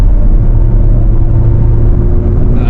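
A Hyundai Palisade Prestige diesel, a four-wheel-drive SUV in eco mode, accelerates gently, giving a steady low cabin rumble and drone that stays loud and even throughout.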